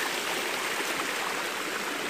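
A spring feeds clear water through pools, making a constant close rushing and burbling flow, steady and alone with no voices.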